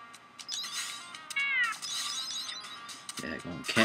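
Cats meowing in a video game, several high, rising cries under a player's speech, with other game sounds and voice around them.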